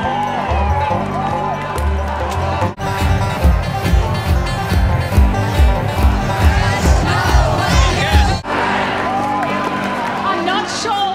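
Large outdoor crowd at a Stop CSG Blue Mountains forum cheering and whooping continuously, with rhythmic clapping and loud, sustained babble throughout.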